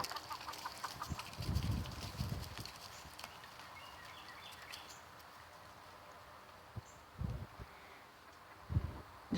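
A small backyard flock of hens clucks softly with a rooster among them, the calls faint and scattered over a quiet outdoor background, with a few louder low thumps and rustles near the end.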